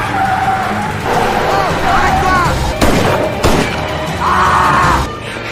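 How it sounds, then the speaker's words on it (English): Police gunfire in a film action scene, with two sharp, loud bursts cutting through a dense mix of car engine and skidding tires, whining tones and background voices. "As a result of gunfire from the police, Manuel suffered a gunshot wound"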